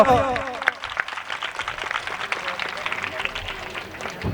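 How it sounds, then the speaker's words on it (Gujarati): Steady applause from an audience fills the whole stretch, with a voice speaking over it near the start and the clapping holding a dense, even texture throughout. "જોરદાર તાળીઓ"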